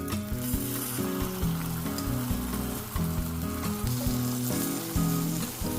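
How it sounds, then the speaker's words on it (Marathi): Cheese-stuffed egg frying in a pan gives a continuous, even sizzle that lasts the whole stretch, with soft music playing underneath. "आपल्याला जास्त फ्राय नाही करायचे आहेत, फक्त थोडे सॉफ्ट व्हायला हवेत."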